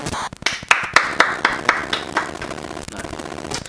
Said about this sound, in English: Let's give a round of applause for Baker Mayfield.